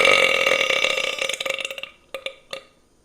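A long, loud, rasping burp rolls on for nearly two seconds and fades, followed by two or three short, sharp burps spaced apart, all close and with no talk.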